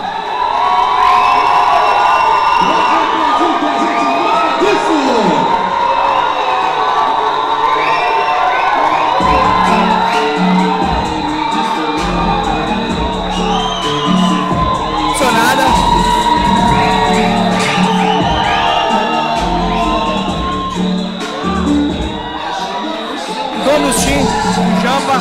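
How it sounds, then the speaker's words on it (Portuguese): A crowd at an amateur women's fight night cheers and shouts for a fighter, producing a loud, continuous roar of whoops and high shouts that lasts the full length with no letup. "para receber o grito da galera"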